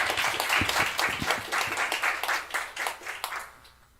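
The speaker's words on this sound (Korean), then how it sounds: "우리 박수로 모시겠습니다." Church congregation clapping to welcome a missionary guest speaker to the pulpit at a Korean worship service, a dense burst of many hands that fades over several seconds.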